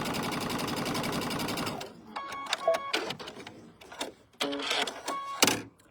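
Sewing machine stitching quilt pieces runs in a fast, steady mechanical whir for about two seconds, then stops, followed by scattered clicks and handling noises nearby.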